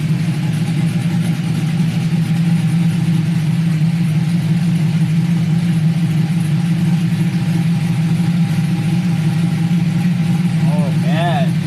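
A Silverado V8 with a BTR cam and a single-in, single-out Flowmaster exhaust idles with a lumpy, loping rumble, loud and close, steady throughout, with a voice speaking briefly near the end.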